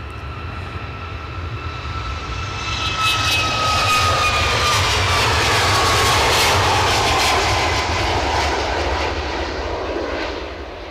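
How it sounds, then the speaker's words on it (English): A Ryanair airliner takes off at Edinburgh airport, its jet engine roar swelling from a steady distant rumble to a loud broadband peak midway, then fading slightly as it climbs away. "We'll get this Ryanair up in the sky."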